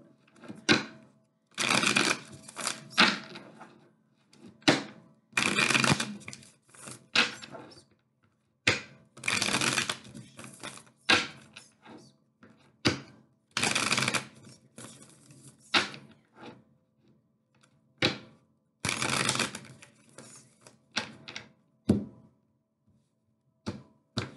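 Tarot cards shuffled by hand in a reading, heard as repeated bursts of crisp riffling and slapping separated by short pauses, close and fairly quiet, with no voice over it.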